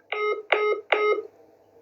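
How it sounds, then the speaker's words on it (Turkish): A telephone call is hung up and a disconnect tone follows: three short electronic beeps at an even pace, moderately loud and heard alone. "Telefonu yüzüme kapattı Çakar."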